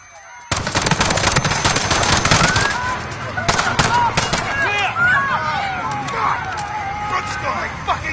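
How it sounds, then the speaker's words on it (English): Dense bursts of automatic gunfire and scattered shots from a Modern Warfare campaign mission at Piccadilly Circus, loud and continuous after a sudden start, with voices and shouting mixed in beneath the firing. "Shots fired."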